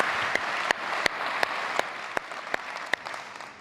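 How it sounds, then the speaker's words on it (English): Applause from a conference keynote audience, a steady wash of many hands clapping with a few sharp louder claps standing out at regular intervals. "Big hand of applause."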